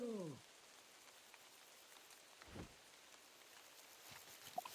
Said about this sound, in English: You summoned the rain.